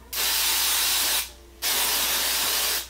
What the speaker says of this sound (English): you can use a hairspray that has a good hold to like hold it over if you don't want it to move